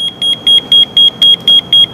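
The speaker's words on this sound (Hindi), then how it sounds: "आप देख सकते हैं अलार्म 1 मिनट तक बोलेगा" A colour-change digital alarm clock sounds its alarm, a loud, high electronic beep repeating in fast, evenly spaced bursts, about four per second, with nothing else heard.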